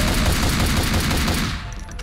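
Automatic gunfire from the video game Max Payne 2 rattles loudly in a dense rapid burst that tapers off and stops near the end, with no talk over it.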